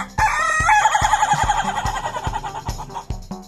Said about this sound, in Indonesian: Ini ayam jago.